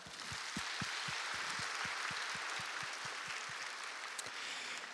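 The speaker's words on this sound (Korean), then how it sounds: "동산의 가족이 되신 분들께 마음을 담아 큰 박수로 환영하겠습니다" During a Sunday morning service at Ansan Dongsan Church, the congregation welcomes new members with faint, distant applause, a continuous wash carrying a regular thump of rhythmic clapping.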